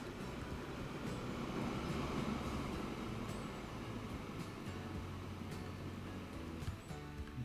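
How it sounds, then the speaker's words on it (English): A coal train in the railway game Transport Fever 2 pulls into a station with a steady, continuous low rumble of rolling wagons that holds at an even level throughout, with no voices. "Let's watch the coal train go in here"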